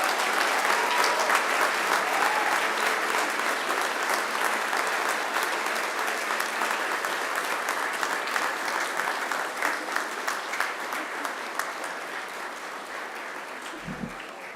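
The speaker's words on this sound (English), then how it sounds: "now it's time to give them a mighty round of applause" Sustained applause from a large audience at a university graduation ceremony, loud and dense from the start and slowly thinning toward the end, with no talking over it.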